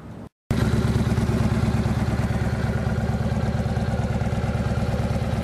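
A 2007 Yamaha Road Star Warrior motorcycle idles through its exhaust, a loud, steady, close lumpy rumble that begins abruptly after a brief gap.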